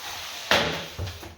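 An IKEA cabinet door swings open with a sharp wooden clack, followed about half a second later by a softer knock, close by and with no voices.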